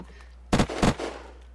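Two sharp, close gunshot bursts in Unturned, a survival shooter, fired in quick succession against a quiet background, with a brief fading tail after the second.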